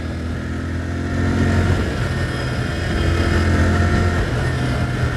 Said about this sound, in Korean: 엔진 필링이 굉장히 부드럽네요.